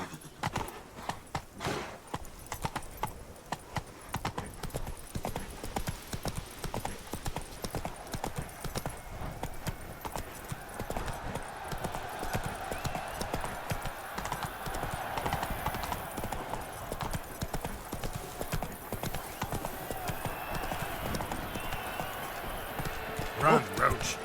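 Horse galloping in The Witcher 3 video game, steady rapid hoofbeats running throughout with music or ambience underneath and occasional voices.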